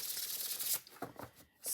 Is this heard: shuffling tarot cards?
yes